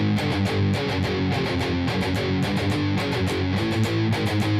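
Heavily distorted electric guitar plays a fast, driving riff from a song, with steady palm-muted chugs and regular accents repeating loud and close throughout.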